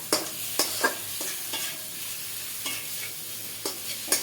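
Potatoes stirred into a hilsa biryani in a pan, with a handful of distinct scraping strokes and clinks spaced irregularly over a soft background sizzle, close and fairly quiet.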